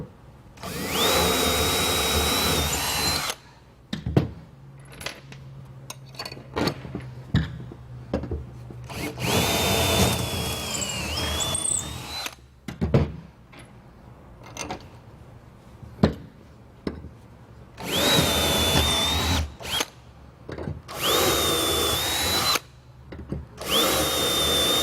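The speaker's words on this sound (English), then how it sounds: "then we can drill the rest of the holes out" A power drill whirs in several long bursts, close and loud, drilling holes to mount a seat on a boat, with quieter clanks and handling noises between runs.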